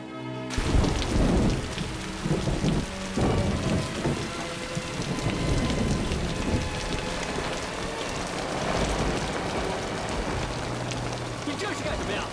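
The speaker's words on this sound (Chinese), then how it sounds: "下这么大雨你不怕被淋坏吗？" Heavy rain pours down in a dense, steady roar, broken by deep rolling thunder throughout the stormy scene.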